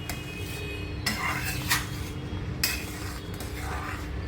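A pot of khandvi batter is stirred steadily, with a spoon scraping and clinking against the metal sides in a continuous rhythm. A few louder scrapes and knocks stand out, close up and with no talking.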